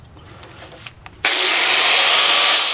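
An American Sharpener Model 5005 grinds a blade against a 40 grit disc, starting abruptly partway through as a loud, steady, hissing abrasive roar that holds constant to the end after quieter handling noises.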